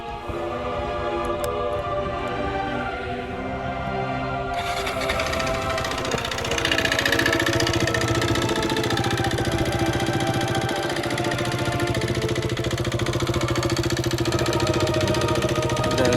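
A worn motorcycle in poor condition starts up and settles into a rough, loud, steady idle with a rhythmic engine knock that fills the whole stretch.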